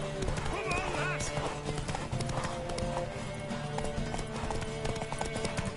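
Galloping horse hooves in The Witcher 3: Wild Hunt during a horse race, a steady rapid clip-clop running throughout beneath shouting voices and game music.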